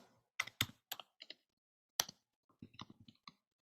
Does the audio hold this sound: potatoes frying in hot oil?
no